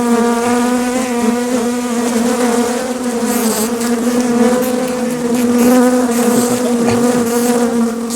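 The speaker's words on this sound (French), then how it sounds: "Là, faut aimer le bruit." Open honeybee hive in Touraine, a dense, steady buzzing drone from many bees, loud and close throughout with no letup.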